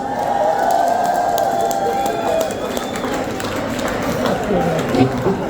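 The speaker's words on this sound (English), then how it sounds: "Give yourselves a round of applause." Applause and cheering from an audience at a lively performance, a busy, noisy crowd wash with clapping and whoops, some tonal sounds and voices mixed in throughout.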